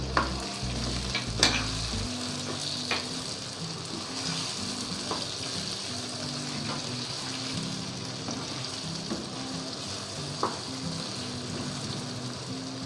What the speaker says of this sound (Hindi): इसको करेंगे फ्राई